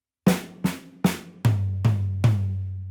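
Two groups of three tom strokes ring out in a drum fill, the second three lower pitched, each hit booming and decaying close and clear with no talking.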